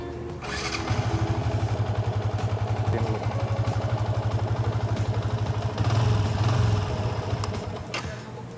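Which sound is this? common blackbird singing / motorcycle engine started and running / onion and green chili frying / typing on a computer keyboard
motorcycle engine started and running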